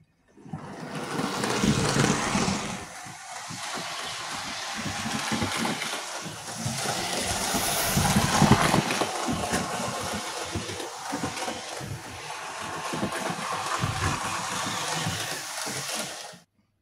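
A Hornby Dublo model train locomotive runs continuously along the track, a steady, fairly loud motor whir and rumble with slight swells in level, and no voices over it.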